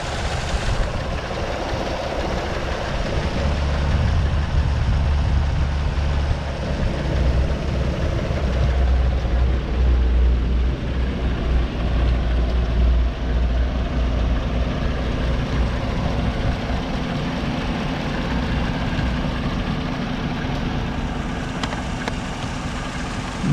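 Chevrolet Silverado Z71 LT pickup's Vortec engine at idle after sitting out of commission for a while, a constant low close rumble that holds steady throughout, with a deeper swell in the middle and no voices.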